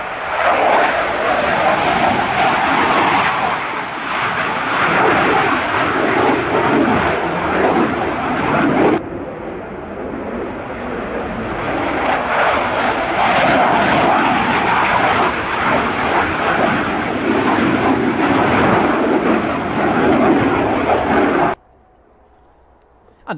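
Airplane engine roars loud and steady through a takeoff run, holding a dense broadband drone for about twenty seconds with a brief dip in level midway before cutting off abruptly near the end.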